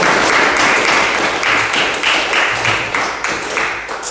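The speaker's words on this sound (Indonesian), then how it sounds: "nah tepuk tangan untuk kelompok 1." Students in a school classroom applaud group one with steady, fairly loud clapping that continues throughout in a close, enclosed space.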